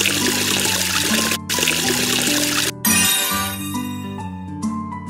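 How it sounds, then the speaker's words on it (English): In a children's cartoon, water pours in two splashy bursts for face washing, then gives way to a sparkling jingle over a steady musical backing. "Wash the face with water."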